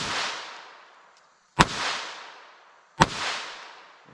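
A 10mm revolver loaded with Buffalo Bore rounds fires outdoors; two sharp, loud cracks land about a second and a half apart, each trailing off in a long echoing decay, with no talking.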